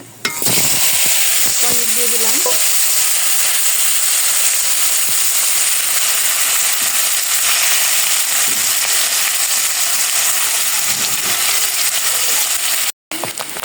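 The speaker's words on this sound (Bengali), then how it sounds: "কড়াইতে তেল এখন জিরা সম্বার দিলাম ফোড়নটা এসে পড়েছে" Cumin seeds sizzle and crackle in hot oil in a wok as tempering for a paneer dish, a loud, steady frying hiss that runs unbroken nearly the whole time with a few brief stirring clinks.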